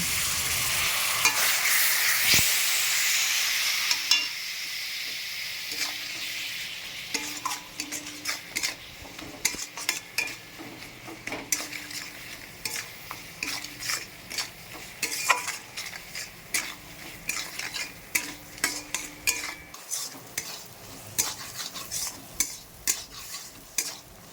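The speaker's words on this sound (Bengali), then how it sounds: "একটু জল দিয়ে মশলাটা ভালো করে কষিয়ে নেব" Spice paste sautés in a pan with a splash of water for a Bombay duck curry, opening with a loud bubbling hiss that settles into a long run of rhythmic scraping stirs over a low sizzle, with no talking.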